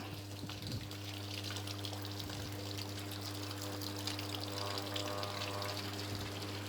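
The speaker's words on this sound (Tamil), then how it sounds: "மறுபடியும் தண்ணி எடுத்தால் அலச போகுது" An IFB washing machine fills with water for its rinse cycle, a steady pouring rush over a constant motor hum, close and fairly quiet, with no talking.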